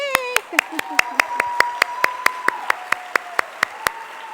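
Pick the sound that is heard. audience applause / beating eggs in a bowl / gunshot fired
audience applause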